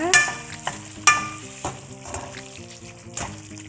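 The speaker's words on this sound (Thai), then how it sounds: "เดี๋ยวเราผัดหมูของเราให้สุกก่อนนะคะ" Pork belly is stir-fried in a pan and sizzles under a few sharp scrapes and clanks of a spatula. Louder hits come near the start and around the one-second mark, with no speech.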